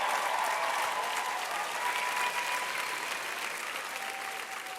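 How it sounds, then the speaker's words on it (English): An audience at a talk show taping claps continuously, a dense, sustained wash of applause holding steady and easing slightly toward the end, with no voices standing out. "Somebody clap like you're going to get your shout back."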